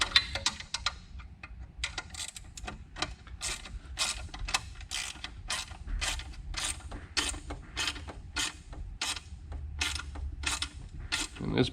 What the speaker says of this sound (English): and we're going to tighten our bolt up